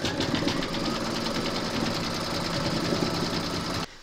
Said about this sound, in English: Pop your hoop into your machine and stitch round number 6 to secure them